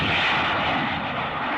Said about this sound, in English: they can send jet interceptors into the sky toward the enemy